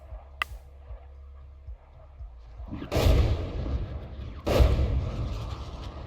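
Two heavy booming blasts of aircraft bombs a second or so apart in the tank video game GHPC, each followed by a rolling rumble, after a quieter stretch with a sharp crack near the start.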